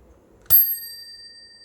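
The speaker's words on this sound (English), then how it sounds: "I've added a ding ding bell" A ding-ding bell mounted on a Weekeight folding bicycle is struck once, giving a sharp, bright ring that decays slowly into quiet, close and alone.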